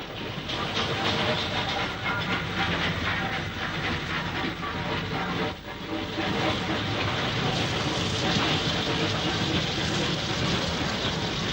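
Two steam locomotives haul a train past with a steady roar and clattering wheels, fairly loud and continuous for several seconds.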